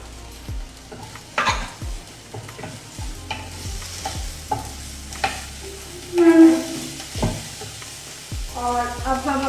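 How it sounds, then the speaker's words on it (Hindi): Finely chopped onion sizzles in a pan with garlic while a spoon scrapes and stirs in repeated strokes, a close, soft, continuous frying hiss under the clatter. "अब इसके अंदर मैं डालूंगी अपना प्याज।"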